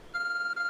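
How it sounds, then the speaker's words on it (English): In Pokémon Legends: Arceus, a glowing object that resembles a phone gives off a steady, clear electronic beep tone. It starts just after a short quiet moment and holds almost unbroken, with only a brief dip near the middle. "There's a glowing beeping object over there."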